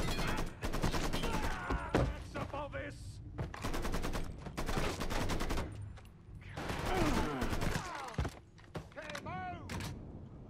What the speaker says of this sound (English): it should be a fun and engaging firefight, trying to get away